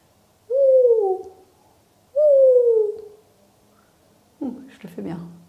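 A human voice imitates an owl's hoot twice, each a long, smooth, falling tone, followed by a shorter, rougher vocal burst, close and loud during a family yoga session.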